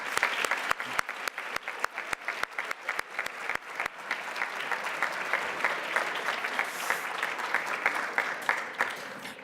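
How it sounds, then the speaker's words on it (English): Audience at a band banquet breaking into applause, a dense, steady wash of clapping with a few sharp near claps standing out, sustained for the full stretch without voices. "Give yourself a round of applause."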